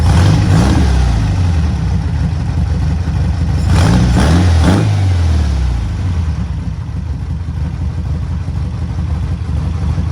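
A 1972 VW Super Beetle with a rough idle that stalls without throttle runs loudly up close, its air-cooled engine rising through two quick revs before settling back to a steady, slightly uneven idle.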